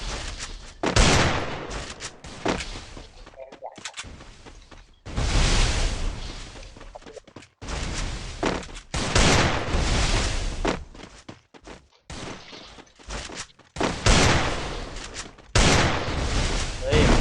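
Loud bursts of gunfire from a shooting video game, in rapid volleys broken by short pauses and repeated through the whole stretch, with occasional heavier booming shots.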